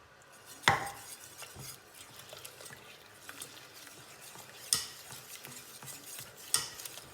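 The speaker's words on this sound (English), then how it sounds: "Stirring it in because we want it to be lovely and smooth." A utensil stirs milk into a white sauce in a pan, giving a soft, steady scraping swish with a few sharper clinks against the metal, quiet and close with no talking.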